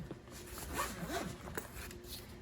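Zipper on a compartment of the Comica CVM-WM100 Plus UHF wireless microphone case being pulled open, a close, scratchy, ratcheting rasp that lasts a couple of seconds.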